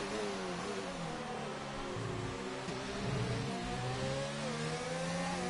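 Race car engines from a racing video game rev and whine steadily, shifting pitch as the cars accelerate through a corner, a fairly quiet but continuous mechanical drone with no talk over it.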